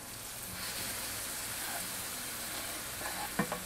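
Garlic with a pinch of salt sautés in a pan with a soft, steady sizzle that stays quiet and even. A small clatter of a utensil comes near the end.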